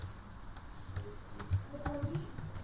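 Keys clatter on a computer keyboard in a quick, irregular run of close, light clicks while someone types code, with no voices over it.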